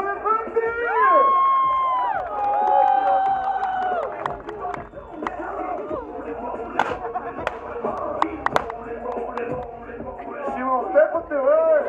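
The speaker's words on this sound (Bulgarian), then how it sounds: "Аплодисменти!" At a Bulgarian motorcycle rally in Veliko Tarnovo, an outdoor crowd cheers and shouts, with whistles and scattered sharp claps mixed among many voices.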